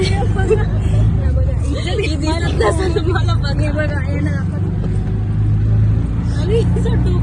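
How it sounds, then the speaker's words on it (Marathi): Auto rickshaw ride through busy city traffic: a steady engine rumble and road noise run throughout, with passing vehicles and a hubbub of voices and chatter on top. "आता आम्ही रिक्षामध्ये बसले."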